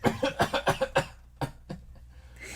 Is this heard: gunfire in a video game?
no